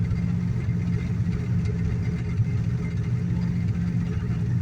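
A 1986 Dodge D-150 pickup engine idling steadily after a cold start at minus two degrees, a low, even rumble running continuously and close by with no talk over it.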